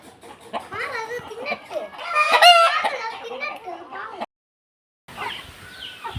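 Chickens cluck and call while being fed rice mixed with green leaves, the hen sounds mixed with lively voices, then a short pause before more clucking and chatter.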